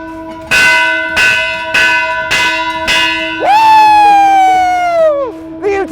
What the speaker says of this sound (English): Cleopatra Burrell, ring that bell!